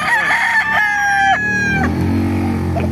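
A rooster crows loudly and close by at a busy Bocaue chicken market, one long drawn-out crow with rising and falling harmonics, other fowl clucking faintly behind it.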